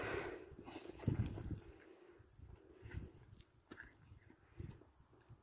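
A dog eating meat porridge from a pan close by, with soft wet lapping and chewing noises coming in uneven bursts at low volume, and no talk over them.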